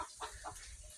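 Backyard chickens on a small farm, a mix of layer and meat types, cluck in short soft bursts at moderate distance, with no one talking.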